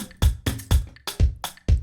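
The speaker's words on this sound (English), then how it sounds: "They sound like this, the drums alone." A punchy Afro house drum loop plays by itself, with deep kick hits and snappy snare strikes alternating in a quick, steady rhythm.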